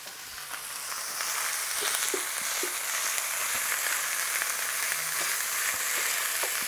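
Lean ground beef, about 500 grams, fries in a pan, giving off a steady, fairly loud sizzle and crackle with a few faint clicks of a wooden spoon breaking up the meat.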